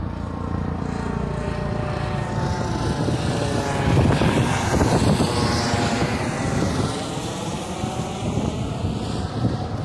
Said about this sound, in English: How low this helicopter is.